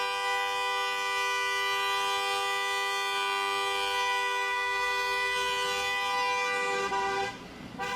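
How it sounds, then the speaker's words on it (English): A car horn blares continuously and loudly in a long sustained tone while a driver tailgates through a quiet residential neighborhood, cutting off near the end. "relentlessly blaring her horn the entire time"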